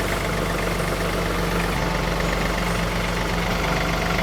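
A tractor engine idles steadily on a farm during trailer hookup, with a continuous low, rumbling drone that stays close and even throughout, with no talk.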